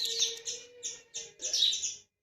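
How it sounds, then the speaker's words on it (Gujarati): Sparrows chirp close by in quick, bright bursts, about five clustered phrases separated by short pauses, clear against a quiet background. "આમ ચકલા બોલે છે"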